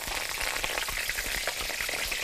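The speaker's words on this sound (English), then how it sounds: "You deep fry this, okay? Deep fry just enough each time." Food deep-frying in hot oil gives a steady, close bubbling sizzle with a dense crackle running throughout, and no one talks over it.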